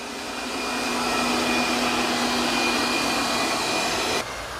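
Tikom L9000 robot vacuum cleaner running with a steady, loud whirring hum and a sustained high tone, then abruptly dropping in level near the end.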